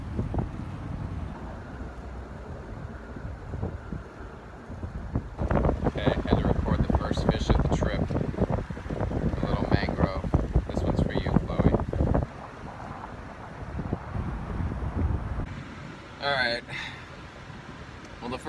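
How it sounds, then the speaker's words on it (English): Wind buffets a fishing boat out on Charlotte Harbor near Boca Grande, a loud, rough rumble of gusts against the microphone. It grows heavier and choppier through the middle stretch and keeps going for nearly twenty seconds. "they said it's really windy"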